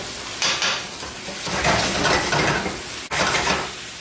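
Jerk stewed chicken being stirred in a hot pot with the lid off, liquid cooking down: a utensil scrapes and clatters against the pot over a soft sizzle, in several close bursts with a brief pause near the end.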